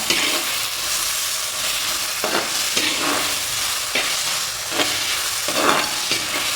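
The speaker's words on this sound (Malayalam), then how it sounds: "ഇനി നമുക്കിതിലേക്ക് ഒരു വലിയ സവാള ഇട്ടു. ഇത് നല്ലതുപോലെ ഒന്ന് വഴന്ന് കിട്ടണം." A large onion sautéing in hot oil with ginger and garlic for Kerala-style chicken roast, a loud continuous sizzle with occasional scraping stirs of a spoon in the pan, no voices.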